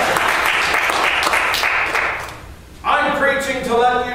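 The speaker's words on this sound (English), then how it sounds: "give Him a hand clap in the church this morning" A church congregation claps steadily in a large room during a service, the applause fading briefly before voices and music-like tones swell in over continued clapping.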